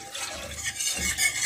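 A spoon stirs yogurt into lukewarm milk, giving a soft, continuous swishing and faint scraping, steady and close, with no talking.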